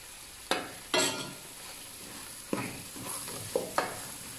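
Rice poured into a pan of shrimp sizzles and crackles, with several distinct bursts of frying as grains hit the hot oil and are stirred, close and fairly loud.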